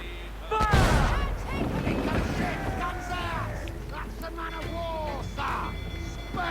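Ship mortars boom in the Assassin's Creed IV pirate naval battle against a man-of-war, a sharp heavy blast followed by rumbling, while several voices shout over the background of sea and action sounds.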